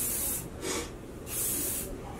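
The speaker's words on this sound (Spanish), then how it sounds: "le echo bastante spray de medio a punta" Hairspray hisses from an aerosol can onto curly hair in three separate bursts, close and steady, each spray a broad rushing hiss with brief pauses between.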